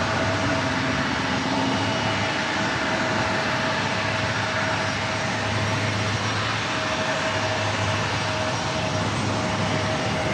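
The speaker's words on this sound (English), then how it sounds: "Got an Airbus A220-300 with Air Canada now heading down." An Air Canada Airbus A220-300 jet rolls down the runway for takeoff at San Diego airport, a steady broad engine roar holding level throughout with a thin whine above it, moderately close and without voices.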